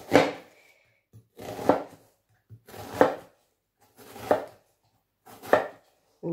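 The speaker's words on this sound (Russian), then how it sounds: "Лук также миленько нарезаем кубиками" A knife dices an onion on a cutting board in steady, spaced strokes, about five sharp cuts, close and fairly quiet with nothing else around.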